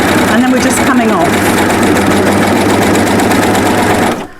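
An overlocker serger stitches fabric in a loud, steady, fast mechanical whir that runs nearly continuously before stopping abruptly, with a voice talking briefly over the start.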